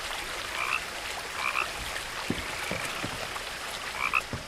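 Short croaks from frogs in What Remains of Edith Finch repeat every second or two over a soft wash of ambient rain-like noise, with faint drips and taps between the calls.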